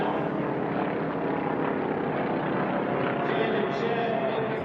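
A Formula 1 class racing airplane at the Reno air races roars past with a steady, loud propeller-engine drone, with an announcer talking over it.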